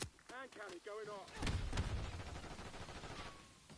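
Hand cannon fires in Call of Duty, a heavy boom after a short burst of voice, followed by a rumbling decaying tail; spoken callouts come first.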